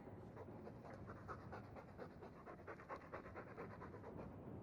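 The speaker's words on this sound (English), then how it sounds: "All that noisy dog breath, day in, day out." Rapid, steady dog panting from the Dragon Age 2 video game, a continuous close breathy rhythm running throughout with no talk over it.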